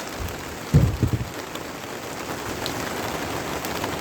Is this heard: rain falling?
yes